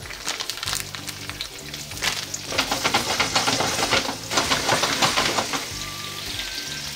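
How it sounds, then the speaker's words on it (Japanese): Bacon frying with garlic in olive oil in a pan, a loud crackling sizzle that swells and stays busy throughout, heard up close with no talking. "軽く香り出てきたらベーコン入れちゃいます"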